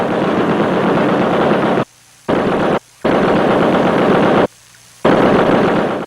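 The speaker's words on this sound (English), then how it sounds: "Tracks mounted several weapons, including at least one 50 caliber machine gun" Heavy .50 caliber machine gun from the game Battlefield Vietnam firing loud, dense sustained bursts, broken by three short pauses between volleys, with no voices.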